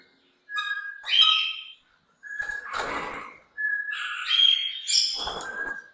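Exotic pet birds in an Islamabad bird shop give a run of clear, close whistled calls and chirps, some piercing and harmonic-rich, broken by a few harsh broadband squawks, with short gaps between bursts.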